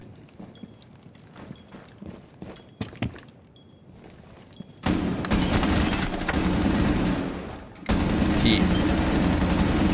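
Shots fired at a wall in a video game: scattered sharp clicks and taps give way to loud, sustained rapid fire that cuts out briefly and then resumes at full strength.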